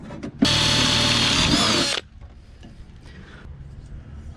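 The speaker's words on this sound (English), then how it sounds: "so we'll just finish drilling that through." A power drill whines loudly at full speed for about a second and a half, boring through a jon boat's metal, then stops abruptly, leaving faint rustling.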